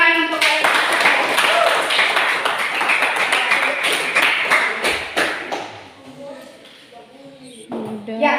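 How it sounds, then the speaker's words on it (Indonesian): A school class claps in a classroom, a burst of fairly close hand clapping lasting several seconds before tapering off, followed by a teacher's voice. "Tepuk tangan untuk"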